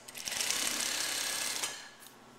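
Sewing machine running a brief burst of stitching along a blouse seam, a steady fast whirring rattle that starts, holds for about a second and a half, then stops with a faint click.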